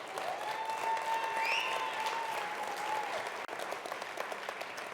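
Sustained applause from an audience at a winter climbing and ski-touring talk, an even, moderately distant wash of clapping with a faint whistle-like tone over it.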